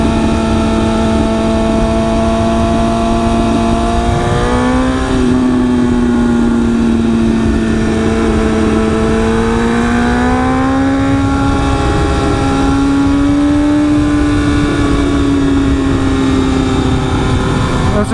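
A 2016 BMW S1000RR Premium Package sport bike's inline engine drones loudly and continuously while riding, its pitch sliding up and down as the throttle shifts, with steady wind rush throughout.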